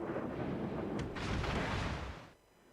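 A high-explosive shell fired from the warship Jean Bart in World of Warships, a loud close deep boom that rumbles and rolls for about two seconds before cutting off sharply into quiet background.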